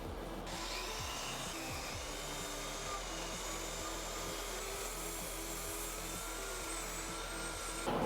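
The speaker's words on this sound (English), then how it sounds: "a little more work with the Dremel tool" A Dremel rotary tool grinds steadily at a guitar pickguard hole to widen it, a continuous high whine with a buzzing, motor-like drone throughout and no talking.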